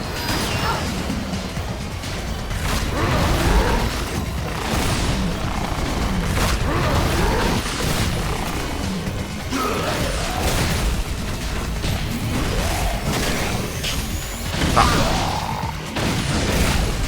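Continuous combat from the action game Devil May Cry 4, with heavy booms, crashes and whooshing hits piling into a loud, dense, unbroken roar, and faint talk buried underneath.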